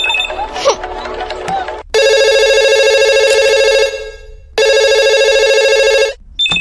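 Two long, loud bursts of a telephone ring from a call placed from a car, each lasting about two seconds and separated by a short pause, after some brief rustling at the start.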